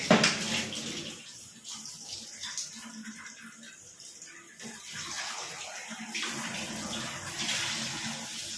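Tap water runs steadily into a sink or bowl while raw chicken pieces are soaked in a home kitchen, a broadband splashing flow throughout with no talk.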